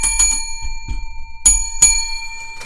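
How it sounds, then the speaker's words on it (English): A quiz bell on a pub quiz night rings in several sharp metallic dings, struck in quick clusters with ringing decay, loud and close with no talk over it. "This bell's starting to die."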